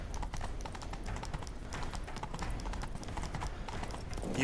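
Rapid rhythmic clip-clop of horse hooves galloping steadily and close in The Witcher 3, loud and continuous with no talking.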